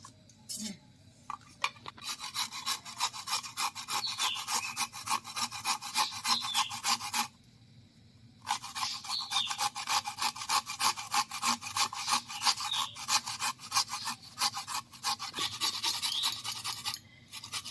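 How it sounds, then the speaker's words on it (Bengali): Carrot is scraped steadily against a hand grater for carrot halwa, a fast rasping rub repeated in long unbroken runs with one brief pause, close up with no talk. "আর দেখুন আমি কীভাবে ঘষে নিচ্ছি।"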